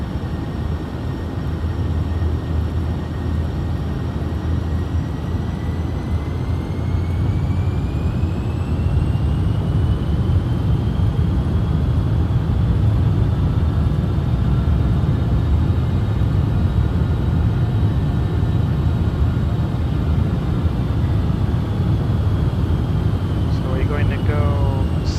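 Cessna Citation Sovereign+ business jet accelerating in a flight simulator, a steady loud engine roar with rising whine tones held throughout, with no speech over it.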